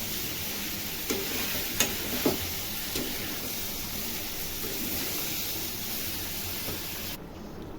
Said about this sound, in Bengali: তরকারির ঝোল উতলাচ্ছে